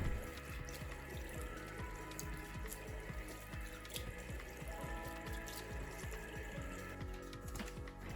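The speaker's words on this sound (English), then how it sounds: "After cleaning, rinse everything with running water." Steady running water splashing into a sink, with scattered drips and small clinks throughout, close by and continuous.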